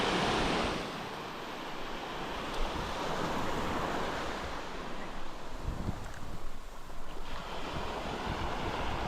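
Rough ocean surf at low tide after a typhoon rolls and crashes continuously nearby, with strong wind buffeting the microphone throughout.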